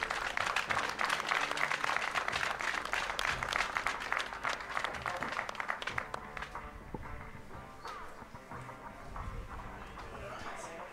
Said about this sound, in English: a warm round of applause, ladies and gentlemen